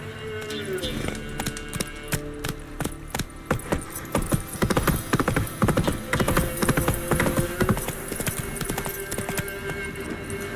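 Hooves of Roach, the horse in The Witcher 3 video game, clip-clop in a steady, close trotting rhythm, with brief jangling of tack mixed in.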